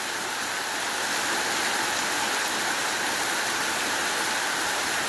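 Heavy, hard rain hammering on a shingled roof, a dense unbroken roar of hissing drops that stays loud and constant throughout.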